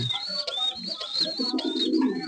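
Pigeons in a loft give soft, throaty coos close by, several overlapping calls with a faint chirping tone above them.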